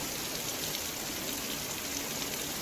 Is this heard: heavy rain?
yes